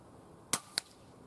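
Two sharp, close-range shots from a Weihrauch HW100 PCP air rifle, fired at 35 m on a very windy day, cracking out about a quarter second apart over a faint breezy background.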